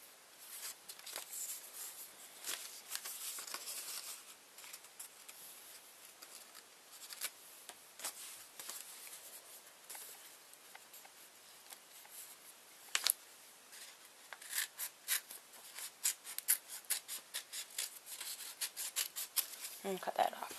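Scissors cutting a cardboard tube and paper for a craft bat, a close, quiet run of repeated snips and papery rustles spread throughout, with brief sharper cuts near the end.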